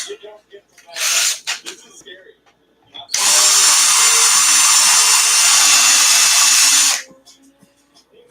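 A power drill with a bit runs in one steady, loud burst of about four seconds while holes are made for 3mm screws. Shorter bursts come before it, and quieter handling sounds and some talk come after.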